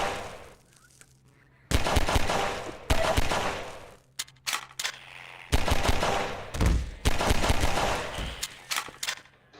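Pistol gunfire from the video game Half-Life 2: loud sharp shots come in several separate bursts, with short quiet gaps and game noise between them, and no talking.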